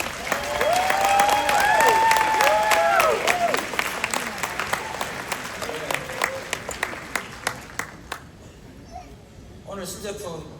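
A convention audience in Las Vegas claps steadily while a voice and other chatter carry over it; the clapping thins to a few scattered claps and then fades out.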